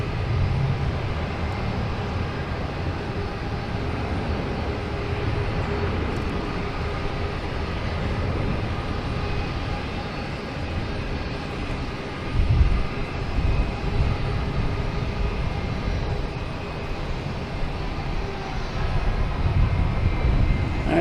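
An American Airlines jet takes off from Boston Logan bound for Charlotte, a steady, loud engine roar held throughout with broadband rumble, swelling slightly near the end, with no talk over it.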